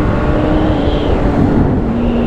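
A Suzuki GSX-F 650 sport motorcycle's engine pulls hard at around 8000 rpm while riding, a steady loud drone with a sustained tonal whine mixed into heavy wind rush, constant throughout.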